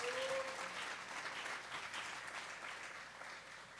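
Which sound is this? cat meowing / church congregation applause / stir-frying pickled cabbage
church congregation applause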